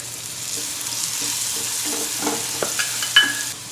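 A spoon stirs spice paste into cooked potatoes in a frying pan, giving soft, uneven scraping under a faint sizzle, then a few sharper clinks near the end.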